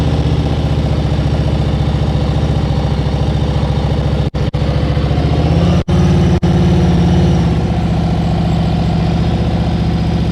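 A motorcycle engine runs at a steady, even throttle during slow-speed riding practice, a loud continuous drone with a few brief dropouts and a slight change in pitch near the end.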